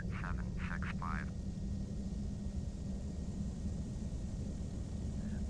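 A Piper PA-34 Seneca twin-engine aircraft taxis at a small airport in Flight Simulator X, a steady low engine rumble droning throughout with brief radio-style speech near the start.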